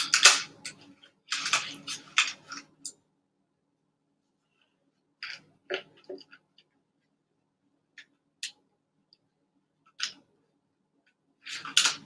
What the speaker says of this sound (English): So we'll cut off 4 pieces.